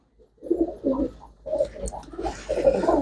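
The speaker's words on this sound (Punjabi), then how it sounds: "ਕਬੂਤਰ ਇੱਕ ਤੋਂ ਇੱਕ ਆਏ ਹੋਏ ਨੇ ਬਈ ਆਪਣੇ ਕੋਲ" Pigeons at a Punjabi pigeon-keeping setup coo in several soft, throaty bursts, close by and fairly loud, with a little background rustle and no talking.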